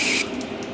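A short hiss of mass airflow sensor cleaner sprayed from a can onto the sensor of a 2011 Nissan Murano, a single close burst lasting a fraction of a second before cutting off into faint rustling.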